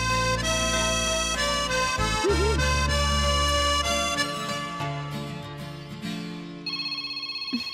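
A phone rings while a call is being placed, its steady repeating ring tone playing over dense background music.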